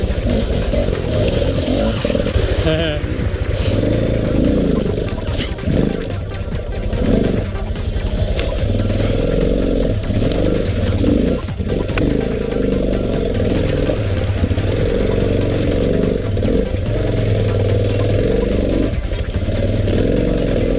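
Dirt bikes climb a muddy enduro hill track, with loud, close engines revving and labouring steadily while the bikes strain up the slope.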